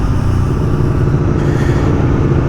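The engine of a 2022 Aprilia Tuono V4 Factory naked motorcycle drones loud and close, holding a steady throbbing note throughout with no voices over it.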